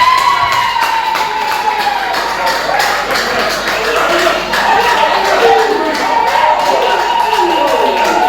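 Guests at an official wedding applaud in a dense, sustained patter of clapping, with crowd voices, scattered shouts and a steady tone running underneath throughout.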